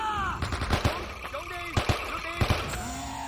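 M-16 rifle gunfire in the Men of Valor video game, several sharp shots in quick pairs under shouted in-game voices and a tonal game soundtrack.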